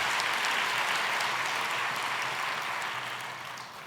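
A church congregation at a New Year's Day Sunday service claps together in a dense, loud, steady burst of applause that slowly fades toward the end.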